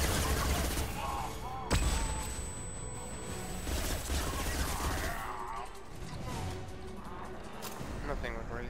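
Gunfire and combat effects from the sci-fi shooter Mass Effect 2, a dense, sustained run of shots and impacts with a sharp crack near the two-second mark, continuing loud throughout.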